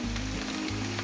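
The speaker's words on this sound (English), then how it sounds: "it's got a good bit of sizzling going on here." Smashed red skin potatoes sizzle steadily in oil on a Blackstone griddle, a continuous hissing crackle with a low hum underneath.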